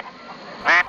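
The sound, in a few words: ducks quacking in a ditch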